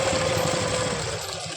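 A sewing machine runs steadily, stitching down the middle of a seam on pant or palazzo fabric with a continuous, close, mechanical whir that carries evenly all the way through.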